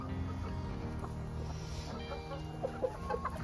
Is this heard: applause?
no